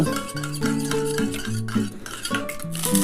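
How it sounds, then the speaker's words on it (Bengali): Egg being beaten in a bowl with a utensil, quick clinking and scraping strokes in close, busy succession, with a steady tonal hum underneath and no talk. "এই যে ডিমটা আমি একটুখানি গুলে নিচ্ছি"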